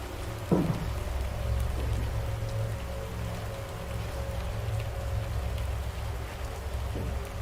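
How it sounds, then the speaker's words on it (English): Steady rain falls throughout, a dense continuous hiss with a low rumble underneath and a brief knock near the start, used as an atmospheric effect in a scary woods scene; no voices are heard. "Oh man, that rain effect is"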